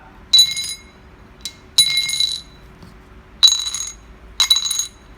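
Hi-lo dice rattle and clatter sharply against a hard bowl in four quick bursts, separated by short silences.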